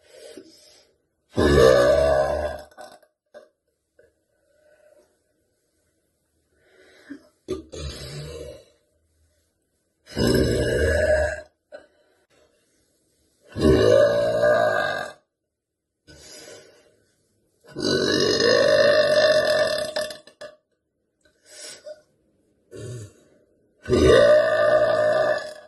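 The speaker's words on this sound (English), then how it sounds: "Oh, I'm gonna burp." Loud, deep burps from a young woman, about eight separate belches of varying length spaced across the clip with silent pauses between, some drawn out and growling, close to the mic.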